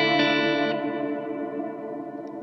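A sustained electric guitar chord rings out through a Line 6 POD GO dynamic hall reverb, loud at first and slowly decaying into a long, washy ambient tail with no playing or talk over it.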